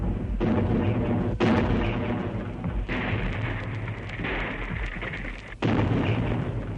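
Heavy artillery bombardment of the ancient town of Ypres during the First World War: continuous loud booming explosions rumble one after another, with several sharp, heavier blasts standing out from the roar.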